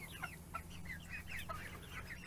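Several hens cluck and chatter in short, overlapping calls over a steady low background hum, fairly close and continuous.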